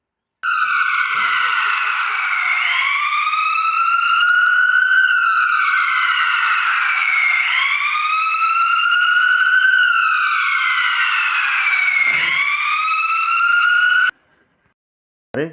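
A loud, close wailing ambulance siren rising and falling in long sweeps, running continuously before cutting off abruptly near the end.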